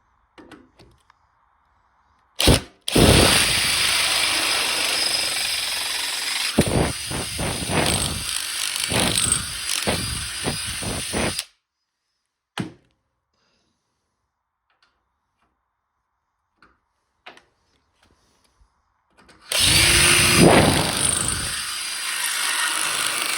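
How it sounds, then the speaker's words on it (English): A power drill bores a hole for a countersunk bolt on a home-built fork vise clamp: a loud, close, sustained whirring grind lasting several seconds, then silence, then another drilling burst. "I'm going to drill that out, put the countersunk bolt in, nut behind it, lock it up solid"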